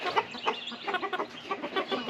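American Breese hens cluck in a quick, uneven patter close by, with no voices over them.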